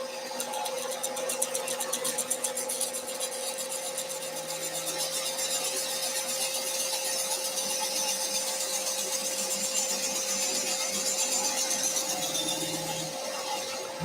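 A hand saw cuts slowly through a wooden workpiece for a Kubb lawn game, giving a steady, continuous rasping drone with fine repeated strokes that stays close and fairly loud throughout.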